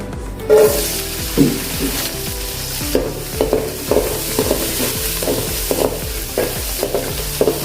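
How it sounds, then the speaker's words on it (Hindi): Green chilies fry in a spoonful of oil while being stirred in a pan, with a steady sizzle and clattering stirring strokes recurring throughout. "अभी हम थोड़ा सा इसमें तेल डालेंगे, सिर्फ 1 चम्मच। अभी इसमें हम हरी मिर्च डालेंगे।"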